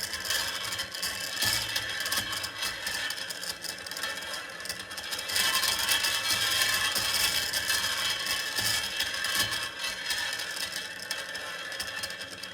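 A Victoria KR26 wheel fitted with new spokes spins steadily, giving a continuous ticking, clicking whir like a ratchet or freewheel pawl, fairly close and even in level throughout.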